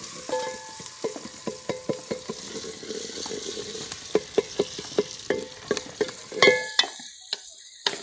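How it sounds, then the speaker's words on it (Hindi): Onions brown in a pan in a village kitchen, sizzling steadily under a long run of regular, crisp utensil taps and scrapes that grow busier toward the end. "फातिमा प्याज ब्राउन हो रहे हैं"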